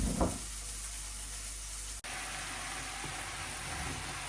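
Chopped onion, vegetables and ground dried shrimp frying in a pan, giving a steady, fairly loud sizzle and hiss that runs unbroken apart from a brief dropout midway, with no talking.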